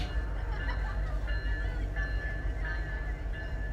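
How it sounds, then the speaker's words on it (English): A train rolls past outside a Cubs baseball stadium at night during a game, a steady low rumble with rail hum and faint squeal tones, fairly loud and continuous under distant crowd babble. "First train of the night going by."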